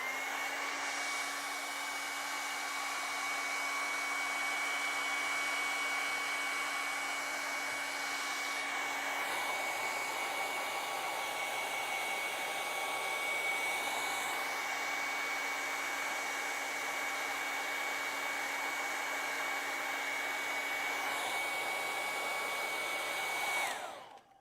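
Hair dryer blowing steadily on acrylic paint for a Halloween ghost painting, a close, constant whirring hum with a shift in airflow partway through, then switched off at the end.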